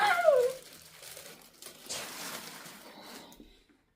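A plastic packaging bag crinkles and rustles close by during a children's clothing unboxing, loudest at the start, then continuing more softly in scattered bursts before fading out.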